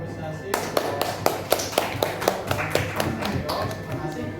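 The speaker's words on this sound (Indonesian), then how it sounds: "kita beri aplaus atau apresiasi" Applause in a Year 10 classroom during a poetry lesson, a rhythmic run of sharp, fairly close hand claps lasting several seconds over faint room murmur.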